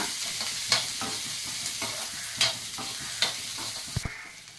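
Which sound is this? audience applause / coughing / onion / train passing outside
onion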